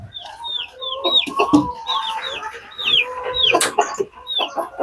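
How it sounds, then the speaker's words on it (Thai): Rhode Island Red laying hens in a farm coop clucking repeatedly, a close, busy run of short overlapping clucks and calls with no talk. "ส่วนตรงนี้เป็นไก่ไข่นะครับ นั้นแม่ไก่กำลังฟักไข่อยู่ เป็นพันโรสไอแลนด์เลสนะครับ"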